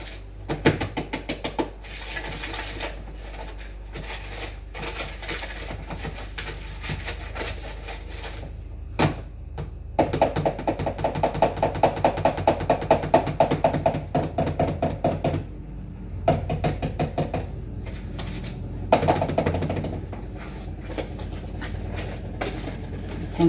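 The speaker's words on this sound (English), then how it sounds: "Then we're going to whisk together the egg and the sugar." Rapid rhythmic clattering of a whisk beating egg and sugar together in a bowl, close and steady in bursts with brief pauses between rounds of whisking.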